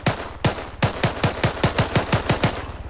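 Automatic gunfire in the video game Arma 3: a rapid, evenly spaced string of about fourteen loud shots, each with a punchy low thump, firing steadily without pause.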